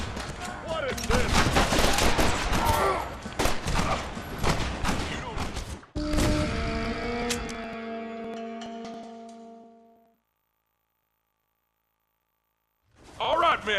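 Gunfire in the video game Red Dead Redemption, dense rapid shots and bursts under shouting voices, then a sustained tonal ringing that fades to silence before noise returns at the end.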